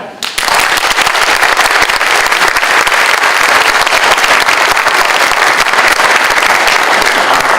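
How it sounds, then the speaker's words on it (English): Loud, dense applause from a high school auditorium audience at a congressional district debate, welcoming a candidate, a continuous roar of many hands that starts abruptly and holds steady throughout. "Please give a round of applause to the Republican nominee, Dr. Mark Allegro."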